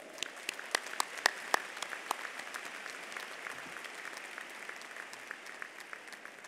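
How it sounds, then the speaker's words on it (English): Applause from a spring undergraduate commencement ceremony audience, a steady wash of many hands clapping with scattered sharper claps, heard at a distance and fairly quiet throughout. "Give her another round of applause."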